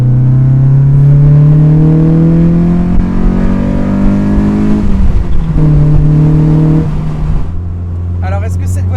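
A Mazda MX-5 NA Miata at full throttle, its exhaust rising in a loud, close climbing drone through the gears, with a brief shift dip before revving on and easing off at the end.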